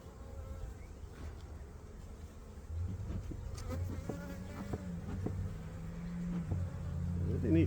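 Honey bees buzz around a hive frame as the wraps and feeder shims come off, a close, continuous droning hum that swells louder toward the end, with a few individual bees passing nearby.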